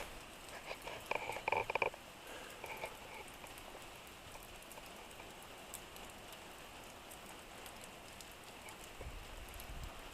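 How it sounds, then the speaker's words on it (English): Rain falls steadily outdoors during a May overnight camping trip in Vermont near a shelter, a soft continuous patter with a brief louder cluster of drops early on. "Raining again."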